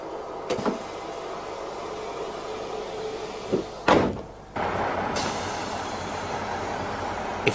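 Passenger doors on a Class 155 diesel train closing, with a steady hum of the idling train throughout and a sharp thud and slide of the doors meeting near the middle, followed by the rumble resuming.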